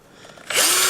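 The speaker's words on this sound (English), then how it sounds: "And I actually have my drill." A power drill driving screws while installing an add-on car shock sensor spins up halfway through and keeps whirring steadily at high speed, loud and close.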